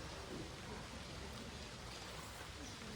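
Faint, even rainfall at a resort in Dandeli, a continuous soft wash of noise with no distinct drops or voices.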